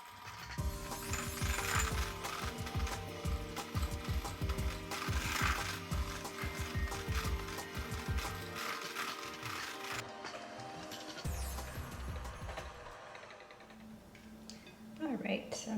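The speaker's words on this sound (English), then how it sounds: "with my handheld mixer, I'm going to whisk it on medium-high until it's creamy for about 1 minute" A handheld electric mixer on medium-high whisks cream cheese in a bowl, making a close, continuous whirring rattle of beaters knocking against the bowl that shifts in tone and briefly cuts out near the end.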